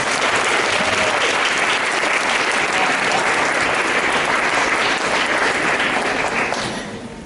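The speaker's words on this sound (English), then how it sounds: "Let's give them a round of applause." Loud, dense applause from an audience at a 5th grade band arts night, clapping continuously for young trumpet players before fading out at the end.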